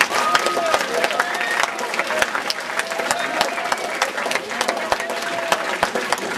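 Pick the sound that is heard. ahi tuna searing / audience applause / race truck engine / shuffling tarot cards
audience applause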